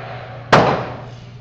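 A single sharp, loud gunshot from a 12 gauge shotgun or semi-automatic rifle fired outdoors, a sudden crack with a short decaying tail.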